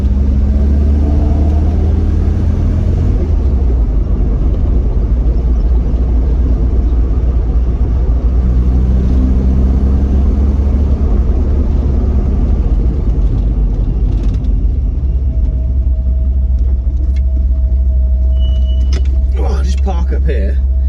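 A classic MGB sports car with a red interior idles steadily on a warm day, its deep, even engine rumble loud and close throughout.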